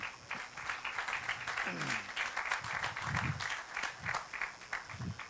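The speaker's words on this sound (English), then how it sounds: "You all deserve a big round of applause for turning out" A crowd applauds at the grand opening of the Cortex MetroLink station in St. Louis, a dense, continuous wash of clapping with scattered voices mixed in.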